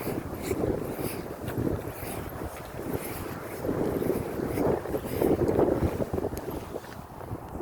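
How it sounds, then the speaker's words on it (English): Wind gusts across an open park on a cool day. It makes a steady, rumbling buffet on the microphone that swells and eases, with no talking. "Wind, if the wind wasn't blowing, probably be perfect."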